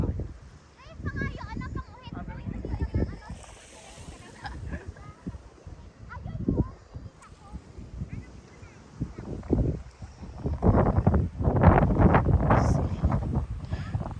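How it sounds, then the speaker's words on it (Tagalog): Strong seaside wind buffets the microphone in low, uneven rumbling gusts that swell and fade. The loudest surge comes near the end, and there is no clear speech. "Ayan, nalakas ng hangin."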